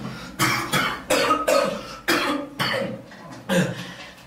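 A person coughs in a rapid series of about eight close, loud bursts, evenly spaced with brief gaps between each.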